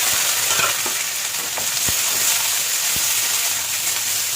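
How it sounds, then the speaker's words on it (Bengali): Onions frying in hot oil in a wok with whole bay leaf, garam masala and cumin, a loud, dense, steady sizzle with occasional stirring taps. "এবার পেঁয়াজগুলোকে বেরেস্তা করে নেবো, পেঁয়াজগুলোকে দিয়ে দিলাম।"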